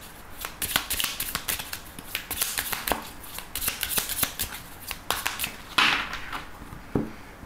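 Tarot cards are shuffled and cut by hand at close range, giving crisp riffling flutters and sharp slaps in irregular bursts, with a louder snap near the end.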